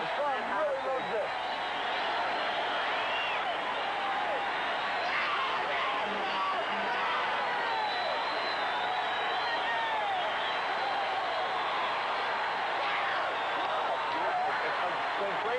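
Crowd of about 4,000 at the 1977 Mr. Olympia bodybuilding competition, a dense continuous roar of voices and cheering that fills the hall throughout, with occasional whoops.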